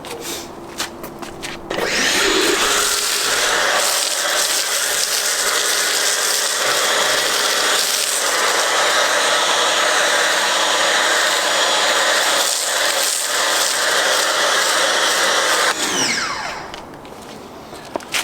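A foam cannon for car washing sprays with its valve wide open, giving a loud, steady hissing rush that starts suddenly, holds evenly for about fourteen seconds and then cuts off.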